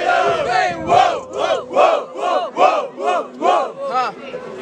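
A crowd at a rap battle in Guarulhos, Brazil, shouts a rhythmic two-part "Hippie! Hoppe!" chant over and over, about eight loud, pulsing calls in a steady beat.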